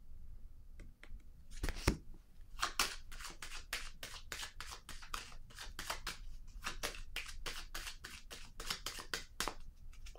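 Tarot cards riffled and handled close up, a long run of quick papery flicks and taps at a steady, busy rhythm, quiet with no voices.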